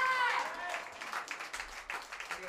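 Audience clapping at a live band's comeback concert, scattered and fairly faint, with a voice and a short tonal sound over the start.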